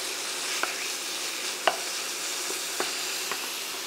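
A pot of boeuf bourguignon sizzles softly and steadily, broken by a few light clinks and taps of stirring, close by with no voices.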